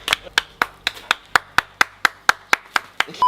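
Steady, evenly spaced hand claps, about four per second, sharp and close, keeping a brisk rhythm from start to finish with almost no talk.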